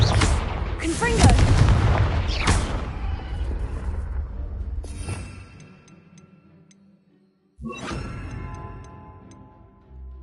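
Fire-spell blasts from the Confringo spell in the Hogwarts Legacy video game, several loud booming bursts close together over the first seconds, then a fading rumble, a brief silence and another burst near the end.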